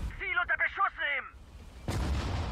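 In the Sudden Strike 4 war video game, a voice barks a command in German, then after a brief pause a loud artillery cannon blast booms and rumbles on.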